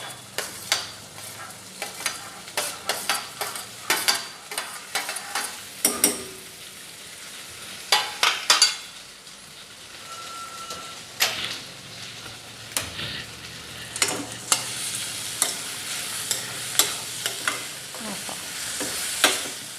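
Potato frying in a hot pan, with a steady sizzle running throughout and frequent sharp clinks and scrapes of stirring against the pan, fairly close and without talk.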